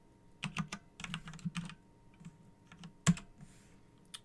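Rapid keystrokes on a computer keyboard while entering router configuration commands, a quick irregular run of close, crisp clicks with a sharper louder tap near the end.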